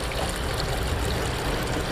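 Wastewater pours from pipes into the San Antonio river, a steady low rushing trickle of water that runs on evenly throughout at moderate distance, with no voices over it.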